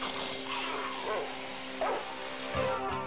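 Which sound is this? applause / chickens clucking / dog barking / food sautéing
dog barking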